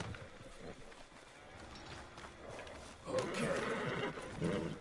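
A horse whinnies loudly in the video game Red Dead Redemption 2, with hoof clops and creaking around it, plus a voice speaking briefly.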